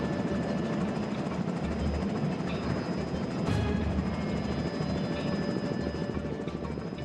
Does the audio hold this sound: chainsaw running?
no